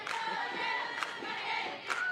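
A crowd cheering for the batter at a college softball game, a steady distant roar of voices with a few brief louder shouts, no commentary over it.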